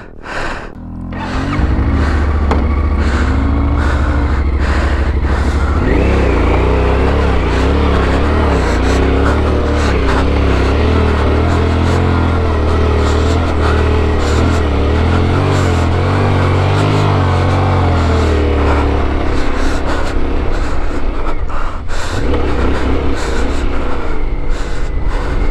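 A Yamaha Tenere motorcycle stuck in desert sand in the Merzouga dunes, its engine revving loud and close in a long sustained drone with wavering pitch, dipping briefly near the end before roaring again.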